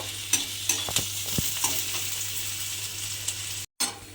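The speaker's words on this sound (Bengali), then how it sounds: "এবার এই পেঁয়াজটা রসুনটা একটু আমি ভাজা হতে দেব।" Onion and chopped garlic fry in a pan with a steady sizzle, while a utensil stirs and scrapes with sharp clicks. A brief dropout cuts in near the end.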